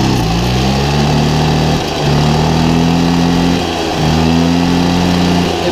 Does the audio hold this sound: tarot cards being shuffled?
no